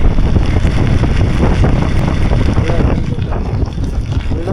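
A vehicle drives through a fully flooded road, with loud, continuous rushing water and spray churning close by along with heavy wind buffeting.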